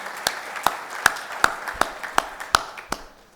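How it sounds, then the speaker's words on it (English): At the inauguration of a Japan Culture Centre in Ahmedabad, the audience greets the chief guest with sharp, evenly spaced claps, about two per second, sounding like a small number of hands over a low room murmur. "he needs a big round of applause for having been made the first chairman of the Cooperative Bank of India"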